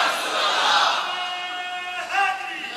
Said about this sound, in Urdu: آج تو دن ہے نا نعرے لگانے کا